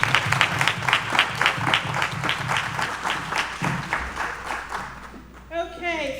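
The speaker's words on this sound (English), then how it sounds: "Let's give a round of applause." Seminar audience gives a round of applause, a steady rhythmic clapping from a room of people that carries for several seconds before tapering off, with a voice speaking at the end.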